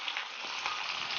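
Slit green chili pods fry in hot oil for a button mushroom curry, producing a steady, close crackling sizzle heard alone.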